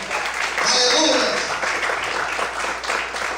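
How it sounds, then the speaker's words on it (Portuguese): A church congregation applauds during a Portuguese-language sermon on Psalm 56, a dense, steady wash of clapping that continues throughout, with voices heard over it. "Você pode aplaudir Jesus nessa manhã?"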